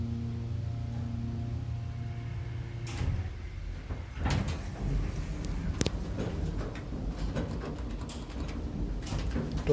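A 1985 Montgomery relay-controlled hydraulic elevator in an Allentown office building, its door sliding closed after a steady motor hum, followed by a clattering rumble of the door travel and a close thud.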